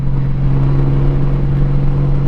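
A motorcycle in sport mode pulls away from a stoplight, a loud, close, steady engine drone with a constant low hum and no voices.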